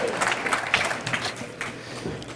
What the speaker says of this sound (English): Now the crowd applauding,